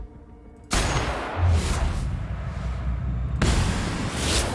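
Weapon fire in the video game The Outer Worlds: a sudden loud blast followed by a sustained roar, with a second sharp burst about three seconds later.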